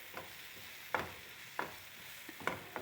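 Eggs mixed with leftover chapati fry quietly in a pan under a soft, even sizzle, while a few brief scrapes or taps of the utensil stand out at irregular intervals, close and fairly faint.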